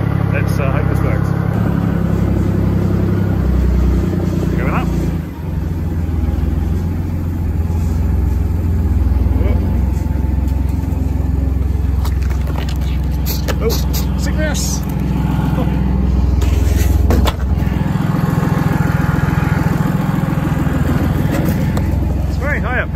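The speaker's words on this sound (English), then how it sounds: "We're on the tractor." A farm tractor engine runs steadily and loudly up close throughout, a constant low rumble with a faint high whine on top and some knocks and rattles.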